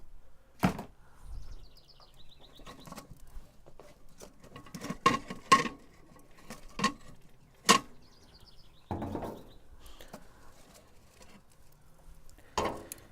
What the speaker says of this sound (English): we're going to go ahead and take the grill grate off so we can add our flavoring wood